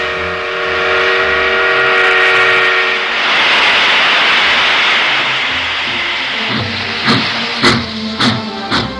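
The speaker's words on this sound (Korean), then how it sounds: "첫 기적 소리가 메아리 쳤습니다" A long, sustained steam-era train whistle in 1950s post-war North Korea blares with a harmonic tone for about three seconds, then washes into broad reverberant rumble, followed by rhythmic clanking at the end.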